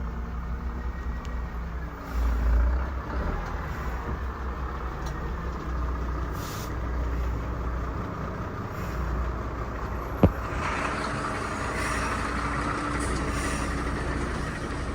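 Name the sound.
heavy truck driving on flooded Transamazon highway BR-230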